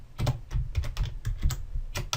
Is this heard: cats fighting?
no